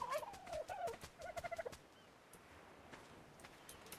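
A turkey in Ark Survival Evolved gobbles in a rapid warbling burst that trails off into quieter scattered clucks and steps, fairly faint against soft ambient noise.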